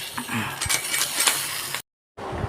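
A spoon stirs and scrapes through curd rice in a bowl, mixed with homemade and packet curd, giving soft metallic clinks and wet scraping sounds close up, broken by a brief silent gap.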